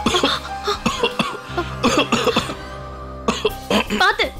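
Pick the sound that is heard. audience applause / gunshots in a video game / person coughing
person coughing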